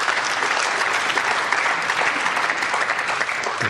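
Audience at the 2017 Welsh Open snooker applauding a young player, a loud, dense and sustained round of clapping from a large arena crowd, steady from start to finish.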